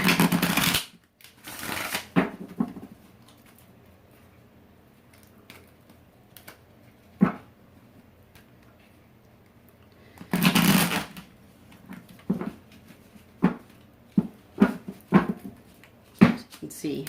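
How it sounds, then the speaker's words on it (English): Large oversized cards are riffled in quick bursts, separated by pauses with scattered soft taps and clicks of cards being handled. "I have a hard time shuffling even regular size cards."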